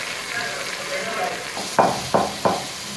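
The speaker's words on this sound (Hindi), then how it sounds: "अब इसमें डालेंगे हम कटे हुए टमाटर।" Chopped tomatoes going into a hot pan, a steady close sizzle followed by three distinct bursts of splutter and stirring scrapes as they hit the oil.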